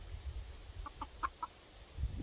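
A few soft, short clucks from chickens, spaced irregularly over a low rumbling background, fairly faint and nearby.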